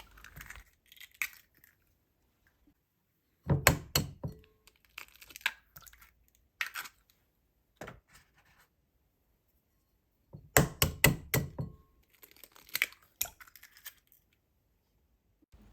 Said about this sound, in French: Ajoutez 3 œufs.